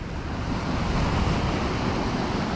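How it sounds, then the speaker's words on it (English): Sea waves washing over a rocky shore as the tide comes in during cod fishing from the rocks in the UK, a steady, loud broadband rush with no clear breaks, mixed with some wind noise on the microphone. "This tide's definitely getting in."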